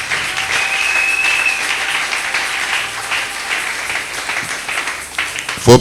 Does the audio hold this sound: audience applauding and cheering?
yes